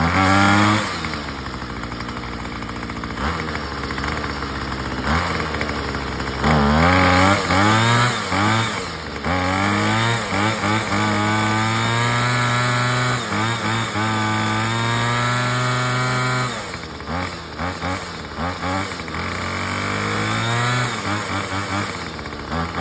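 A Craftsman 25cc string trimmer with a newly installed carburetor runs loud and close, its two-stroke engine revving up and dropping back repeatedly for about twenty seconds.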